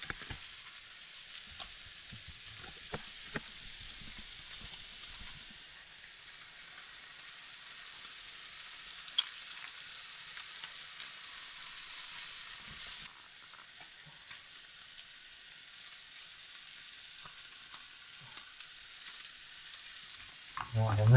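Fish frying in a pan with lemon juice and being stirred outdoors, a continuous soft sizzle with occasional scraping clatter, fairly quiet throughout.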